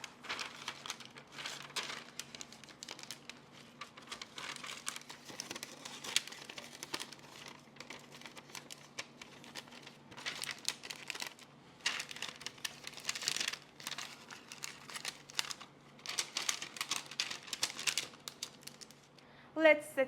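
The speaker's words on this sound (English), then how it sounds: "Now place your parchment paper in it." Parchment paper crinkles and rustles in irregular bursts as it is placed into a greased baking pan, close up, with quieter pauses between handlings.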